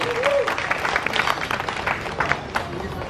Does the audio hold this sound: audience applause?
yes